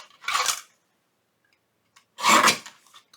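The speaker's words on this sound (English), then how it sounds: "I'm going to trim this off here." A paper guillotine trimming a paper tag, two distinct close swishing cuts about two seconds apart, each a short scraping slice of blade through paper with silence in between.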